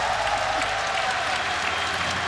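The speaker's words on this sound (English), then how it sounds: "Crowd is loving it." Applause from a live audience at a Rainbow Six Siege reveal event, a dense steady clatter of clapping that stays loud and even throughout with no pauses.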